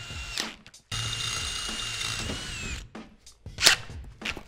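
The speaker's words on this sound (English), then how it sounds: "Let the drill bit do the cutting." A power drill whines at high pitch as it bores into a stainless steel exhaust tube, running in a couple of sustained bursts separated by brief pauses.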